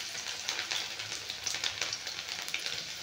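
Cumin seeds, red chilli, ginger and garlic hit smoke-hot oil for a potato-spinach curry, giving a steady close crackling sizzle with bright popping spurts throughout, no voices.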